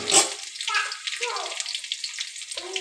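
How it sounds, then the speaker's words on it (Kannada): Food dropped into very hot oil for a gravy-style mutton gojju, spluttering and crackling in steady bursts close by, with faint voice sounds in the background. "ಎಣ್ಣೆ ತುಂಬ ಕಾದಿತ್ತು ಅದಕ್ಕೋಸ್ಕರ ಈ ಥರ ಹಾಕ್ತಾ ಇದೆ"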